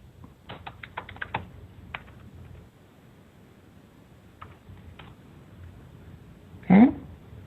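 Quick bursts of computer keyboard typing while a search is entered, a cluster of crisp clicks early on, then a few scattered keystrokes, followed by a louder single knock near the end.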